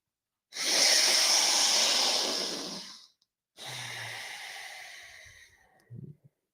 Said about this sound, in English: Let's go for 3 more breaths.